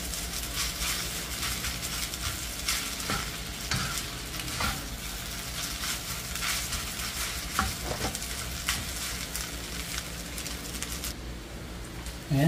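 Rice with kalkag, tiny dried shrimp, stir-fried in a pan, giving a steady loud sizzle with scraping stir strokes throughout and no talk.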